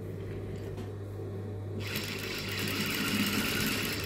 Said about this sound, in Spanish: Y sin cortar el hilo, directamente voy a hacer ese centímetro de costura